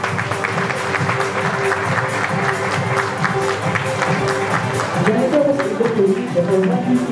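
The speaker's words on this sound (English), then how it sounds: "Let's give a round of applause to Ms. Jenica G. Ferrer" Sustained applause from the audience at the 38th Magsaysay Awards ceremony, a steady wash of many hands clapping that continues for several seconds with a faint voice underneath.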